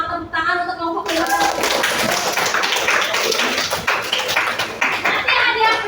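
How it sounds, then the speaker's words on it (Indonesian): Children in a classroom break into loud, sustained clapping for a winning group, preceded by a brief spoken phrase and continuing steadily to the end. "Tepuk tangan untuk kelompok 5"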